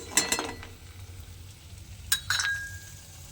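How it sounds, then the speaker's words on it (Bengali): Lentil dumplings (bori) frying lightly in hot oil in a home kitchen, with two short bursts of sizzling and stirring, a soft clink of a utensil against the pan, and a low steady hiss between them. "ডালের বড়িটা আমি হালকা করে ভেজে নেব, যাতে ডালের বড়িটা পুড়ে না যায়।"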